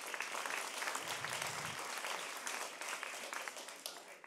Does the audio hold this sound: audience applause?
yes